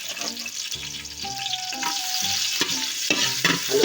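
Garlic sautéing in hot oil in a pan, a continuous sizzle with stirring scrapes, overlaid by tonal hums and voice-like sounds, fairly close and steady throughout.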